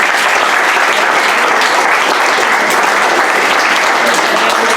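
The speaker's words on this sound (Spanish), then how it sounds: "Un fort aplaudiment per a Vicent." A school audience at C.P. Martínez Valls in Ontinyent breaks into loud, dense applause for a guest named Vicent, a continuous roar of many clapping hands with no pause.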